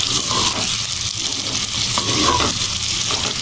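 Chicken masala frying in a pan, with steady loud sizzling broken by irregular scraping stirs throughout, no voices.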